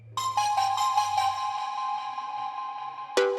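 A mobile phone ringtone plays a bright, tonal electronic melody for about three seconds before cutting off with a sharp click, heard alone and fairly loud.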